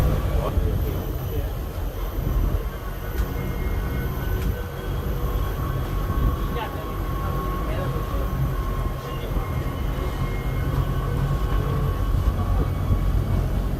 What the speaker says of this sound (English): The tram will be leaving shortly.